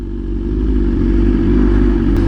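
Loud, close BMW S1000RR motorcycle exhaust with titanium headers and SC slip-on rumbles with a rough, crackling idle, uneven backfire pops breaking through the low throb.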